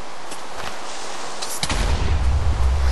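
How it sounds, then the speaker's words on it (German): A Creeper explodes in Minecraft: after a quiet opening, a sudden loud, deep, booming blast with a heavy bass rumble bursts in and keeps roaring to the end. "Aber schöner Ton bei der Explosion, muss man zugeben."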